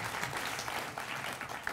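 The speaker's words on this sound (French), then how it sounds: "Alors, on peut applaudir, Manu" Brief, fairly quiet applause rises from an audience at an ethics prize award ceremony, a short even burst of many hands clapping.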